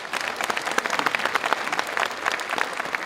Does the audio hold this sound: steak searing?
no